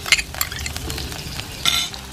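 Shallots frying in a little coconut oil for a drumstick leaf thoran, a sizzle with a few quick spatula scrapes and clinks, near and moderately loud, no talking.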